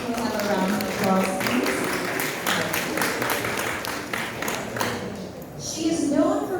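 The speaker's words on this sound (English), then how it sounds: "We'll have a round of applause" Applause from an audience for architect Rowena Ramos at a media press conference for Botanika nature residences, a dense patter of clapping over several seconds with cheering voices rising near the end.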